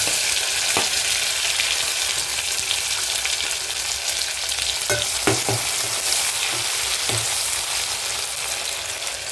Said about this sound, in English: My oil is bubbling up because, as I've said earlier, it's the one I used in the morning, so it's not pure